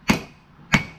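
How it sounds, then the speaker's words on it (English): Hot steel being hammered on an anvil while forging a patch knife, two sharp ringing strikes about half a second apart, close and loud with brief decay. "Get this hammered down and I'll show you."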